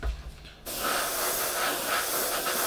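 Vallejo Metal Color acrylic paint spraying from an airbrush, a steady close hiss that starts suddenly and continues evenly to the end.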